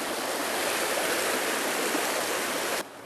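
Steady rushing water of a flowing stream, a continuous broadband wash close by that cuts off abruptly just before the end.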